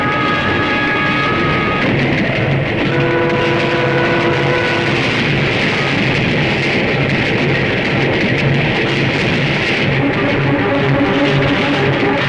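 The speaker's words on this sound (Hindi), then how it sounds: "अरे ये क्या, ये ट्रेन रुकी क्यों नहीं?" A train rushing past without stopping, a loud continuous rumble and roar with some tonal whine, sustained throughout at close range.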